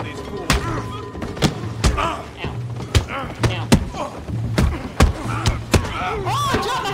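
Heavy punches and thuds land in a saloon brawl in Red Dead Redemption II, a string of sharp, close impacts at irregular intervals amid grunts and shouting voices.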